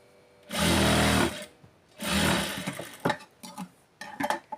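Sewing machine stitching piping along a blouse edge, heard as two loud sustained whirring runs followed by short stuttering bursts and small mechanical clinks, with no voices.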